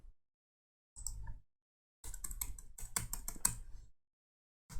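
Bursts of computer keyboard typing, close and fairly quiet, with a short gap of silence between the first brief flurry and a longer run of quick, uneven keystrokes.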